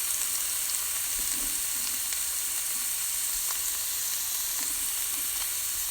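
Vegan sausages fry in a pot with garlic, giving a steady, close sizzling hiss with faint stirring clicks throughout and no voices.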